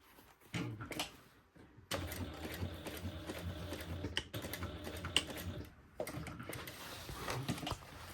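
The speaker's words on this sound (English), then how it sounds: "And stitch right across the bottom." A sewing machine stitches straight across the bottom of a fabric tote lining, running in a few quiet bursts with short pauses and clicks between them.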